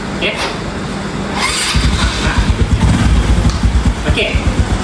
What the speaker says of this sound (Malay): Lepas itu start motor.